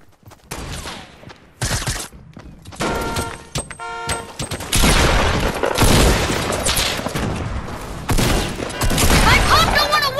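A shooter video game erupts with dense gunfire, with rapid volleys, heavy booming shots and crashing impacts piling up loud and close, nearly continuous throughout with brief gaps and a short burst of electronic tones early on.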